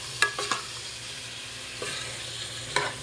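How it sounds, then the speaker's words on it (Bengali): Dal being mixed with spices in a hot pan: a soft continuous sizzle punctuated by a few sharp spoon scrapes and clatters near the start and end, no talking. "দেখুন ডালটা এখন মিক্স করে নেব, ভালো করে মিক্স করে নেব।"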